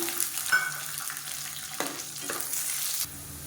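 Half a cup of garlic frying in a pan sizzles quietly, broken by a few sharp scrapes and stirs of a utensil, with no voices over it.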